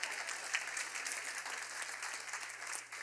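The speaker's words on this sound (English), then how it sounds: "Somebody should clap." Scattered applause from a church congregation during a sermon, a steady, fairly quiet patter of claps running throughout with no speech over it.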